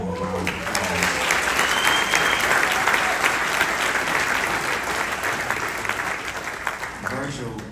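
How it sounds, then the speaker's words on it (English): A large audience at an awards ceremony gives loud, sustained applause, a dense wash of clapping that holds steady for several seconds before easing slightly near the end. "I want you to give him a round of applause."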